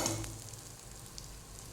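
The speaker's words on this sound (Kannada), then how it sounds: "ಮೀಡಿಯಮಲ್ಲಿ ಉಟ್ಕೊಂಡು ಫ್ರೈ ಮಾಡಬೇಕು" An egg roll frying in a pan over a medium flame, giving a continuous close sizzle that stays level, with a brief scrape near the start and no talking.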